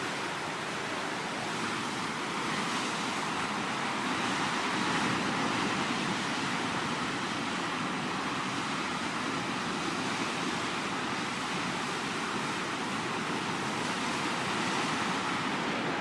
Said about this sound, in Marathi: ज्याला आपण गाज म्हणतो, पाणी येतं आणि ते आदळतं